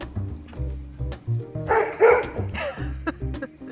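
A playful dog makes short excited yips and barks close by while playing with a 3D printed fishing lure, mixed with low rumbling thumps and scuffling.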